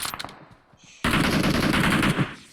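Rapid automatic gunfire in the mobile game PUBG Mobile, a dense loud burst lasting over a second after a few quieter scattered shots.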